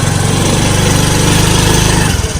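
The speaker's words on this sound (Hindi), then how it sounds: "हल्के हाथ से ब्रेक को छोड़ना है पहले और फिर धीरे से एक्सीलेटर देना है" A scooter engine runs loud and close as the accelerator is opened, a steady buzzing drone with a throbbing low pulse that shifts slightly toward the end.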